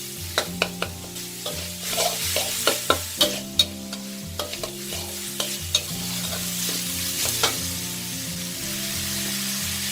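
Pork fries in a pan with a steady sizzle while a utensil stirs it, striking the pan in sharp, scattered clacks that cluster early and thin out later; soft music plays underneath.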